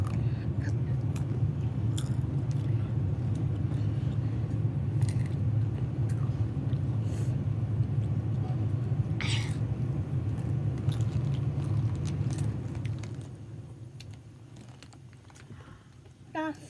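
Someone eats tacos up close with loud, continuous crunching and chewing over a low background rumble. Voices sound faintly now and then, and the munching fades toward the end.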